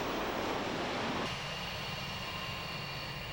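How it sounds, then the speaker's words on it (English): An airplane landing at Halifax, heard as a faint, steady engine roar with broad rushing noise that drops suddenly in intensity about a third of the way in and then continues as a lower drone. "We landed by plane."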